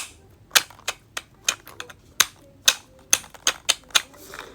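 A clicky button on a beaded fidget toy is pressed repeatedly, giving a string of sharp, close, irregular clicks with no talking.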